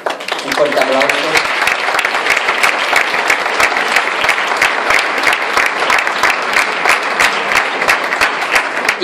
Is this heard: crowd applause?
yes